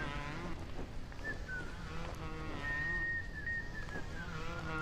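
A thin, sustained whistle from people in the Bioshock video game drifts faintly over a steady, noisy ambient rumble.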